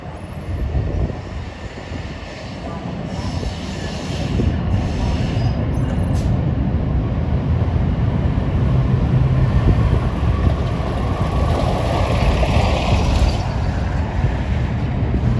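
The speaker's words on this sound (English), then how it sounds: "And an outbound train arriving at the station upstairs" Outbound NJ Transit train pulling into Newark Broad Street station, a steady loud rumble of wheels and cars on rails with a faint high squeal, heard from below the platform level.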